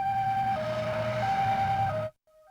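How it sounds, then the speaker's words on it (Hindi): Cartoon ambulance siren wailing in a two-tone pattern, loud and close, holding steady for about two seconds before cutting off abruptly. "एम्बुलेंस की आवाज।"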